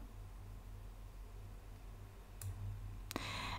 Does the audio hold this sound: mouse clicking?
yes